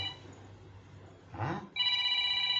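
A low hum and a brief rustle, then a telephone bursts into a loud, steady electronic ring.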